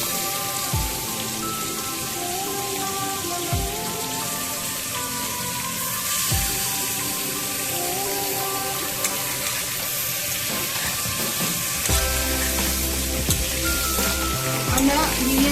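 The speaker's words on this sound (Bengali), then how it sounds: "এখন এর মধ্যে আমরা চিকেনগুলো দিয়ে দেবো।" Chicken pieces frying in oil in a large kadai for a garlic-free biryani, a steady sizzling hiss that runs throughout, fairly close, with occasional low thumps of handling and no talk.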